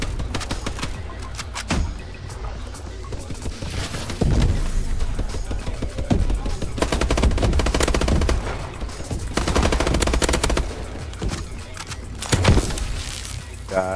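Gunfire in the Exo Survival mode of a Call of Duty match on the Detroit map rattles on continuously for the whole stretch, with dense machine-gun bursts, single shots and blasts all loud and overlapping.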